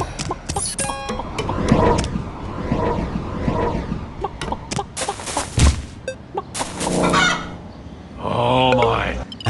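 Clucking, squawking and honking fowl calls from a chicken in the Animal Escape audio video game, loud and close, mixed with whooshes and other game effects in bursts.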